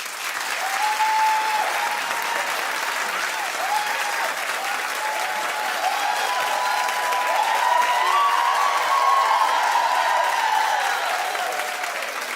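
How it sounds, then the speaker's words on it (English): A studio audience at a talk show claps steadily and loudly for about twelve seconds, a dense, even wash of applause with no talk over it. "Clap if you don't care."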